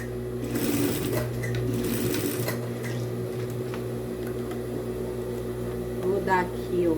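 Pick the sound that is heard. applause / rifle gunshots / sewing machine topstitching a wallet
sewing machine topstitching a wallet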